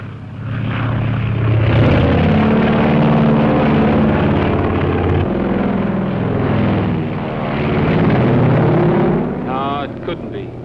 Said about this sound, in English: I never saw that plane before